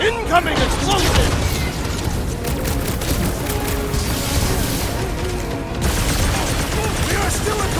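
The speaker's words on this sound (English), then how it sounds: "Incoming explosion!" Explosions and combat in the video game Marvel's Guardians of the Galaxy make a dense, continuous roar of blasts, crashes and debris, loud throughout, with character voices mixed in.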